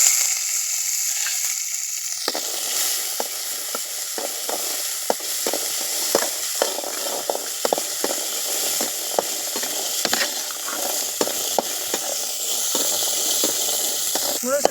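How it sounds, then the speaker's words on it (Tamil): Turkey berries (sundakkai) sauté in a little oil, giving a continuous bright sizzle broken by frequent sharp scrapes and clicks of a spoon stirring the pan, close and fairly loud throughout. "ஃபஸ்ட்டு சுண்டைக்காயை கொஞ்சமாக எண்ணெய் ஊற்றி வதக்கிடலாம்."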